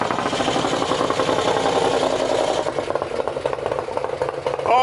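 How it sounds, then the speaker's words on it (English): A 2020 Harley-Davidson Street Glide Special motorcycle with a Thunder Max tuner idles loudly in neutral with a rapid, rattling putter that softens and roughens toward the end. "Let the motorcycle idle on its own for 15 seconds"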